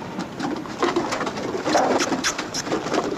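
Pigeons of an Army Signal Corps pigeon service cooing in their coop, soft repeated coos and bird calls close by, steady throughout with no talking.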